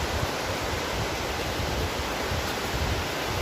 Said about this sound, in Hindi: आपको आवाज़ भी सुनाई दे रही होगी पानी की